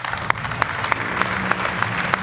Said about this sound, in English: I ask an applause for Andrea.